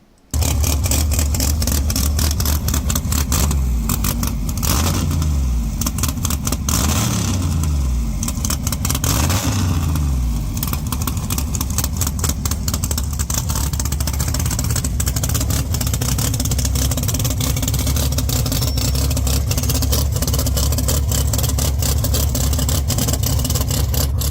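A hot rod car accelerates down a track on a road test, its engine revving up through several rising sweeps and then holding a loud, sustained roar close by.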